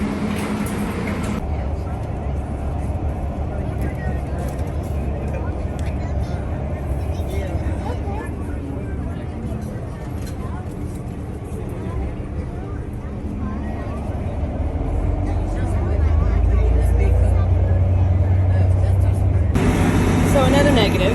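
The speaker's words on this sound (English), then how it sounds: "Now we have to take a bus, it looks like, over to the ship." A shuttle bus ride from the terminal to the Carnival Sunshine cruise ship at the Port of Charleston, with a low engine drone and road rumble throughout, rising louder near the end, while people talk faintly inside.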